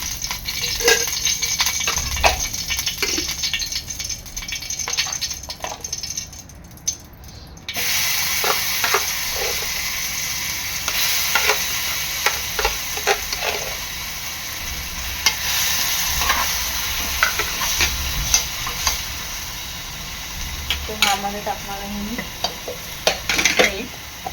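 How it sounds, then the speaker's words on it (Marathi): Thick masala paste sizzling in hot oil in a kadhai with frequent spoon scrapes and stirring clatter, a steady crackling hiss running throughout, close by, no speech. "आता हे वाटण मी फ्राय करून घेणार आहे"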